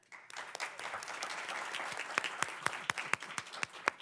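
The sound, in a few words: conference audience applause for interviewee Pedro Ayara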